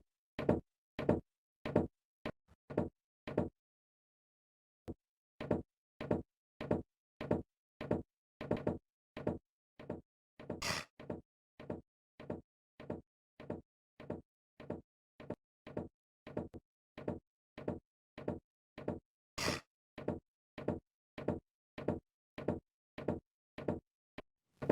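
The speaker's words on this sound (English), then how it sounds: "Knock, knock." Knocking on a door in the video game Deponia: a long series of crisp, evenly spaced knocks in short bursts, clear and close, separated by brief pauses, with two sharper clacks partway through.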